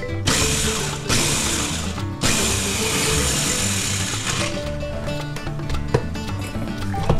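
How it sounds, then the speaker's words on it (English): A food processor pulses garlic with other ingredients for chili lime shrimp, giving loud, close whirring bursts of blade and motor noise separated by short stops, then a longer steady run. "Lid on there, and we'll just pulse this down until everything gets roughly chopped."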